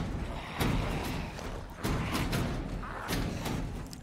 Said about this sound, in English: I'll wait for them to break this door down